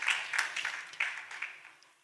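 A church conference audience claps briefly, a short burst of applause that swells and then thins out quickly into quiet.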